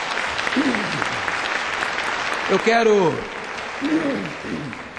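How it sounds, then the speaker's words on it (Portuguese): An audience at a solemn legislative session honouring child protection councillors applauds steadily, the clapping continuous and fairly loud while a voice speaks briefly over it. "Vamos pedir a vocês uma salva de palmas para eles."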